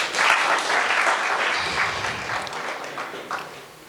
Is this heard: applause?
yes